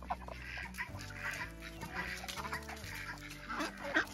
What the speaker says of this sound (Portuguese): Aqui tá as galinhas tudo esperando.